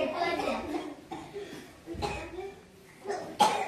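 A child coughs a few times amid chatter and background voices, the coughs short and close.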